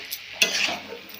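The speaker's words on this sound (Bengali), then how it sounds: "আপনারা এটা 5 থেকে 6 মিনিট একটু ঢাকা দিয়ে কষিয়ে নেবেন" Green jackfruit sautéing in a pan, a short burst of sizzle with one sharp stirring scrape, close up and without speech.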